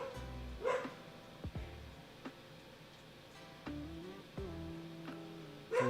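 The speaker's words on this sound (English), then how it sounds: "Holy crap, that dog is loud." A loud dog barking repeatedly in the room, several sharp separated barks over a quiet background with a soft steady hum.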